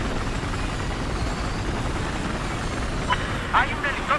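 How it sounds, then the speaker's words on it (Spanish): Enemy helicopter in the video game Battlefield 4, a steady rotor drone held at a constant level throughout, with brief sharp game sounds near the end. "Hay un helicóptero enemigo al oeste de tu posición."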